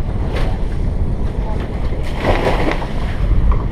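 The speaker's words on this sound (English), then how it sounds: "It's windy, really windy." Strong wind buffeting a boat anchored in shallow water near Bimini, a loud continuous rushing roar with gusty swells and microphone wind noise throughout, a voice faintly mixed in.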